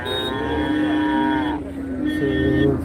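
A calf at a Friday livestock market in Kunthrapalli, Krishnagiri district, gives two loud, close moos, one long drawn call followed by a shorter one, with faint market noise behind.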